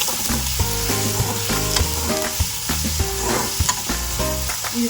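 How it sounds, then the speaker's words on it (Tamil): Tomatoes sautéing in a hot pan for tomato thokku, a steady loud sizzle with frequent spatula scrapes and stirring knocks throughout, close up, with music playing underneath and no speech. "நல்லா வதக்கி விட்டுக்கலாம்."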